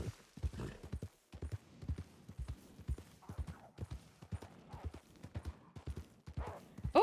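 Horse hooves clip-clopping steadily during a ride through open country in Red Dead Redemption 2, a continuous close rhythmic patter.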